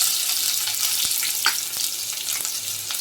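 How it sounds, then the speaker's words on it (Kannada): Dried red chillies, curry leaves and chopped onion fry in hot oil in a pan, a steady close sizzle with a few stirring scrapes and soft pops. "ಇದನ್ನು ಫ್ರೈ ಮಾಡ್ಕೋಬೇಕು."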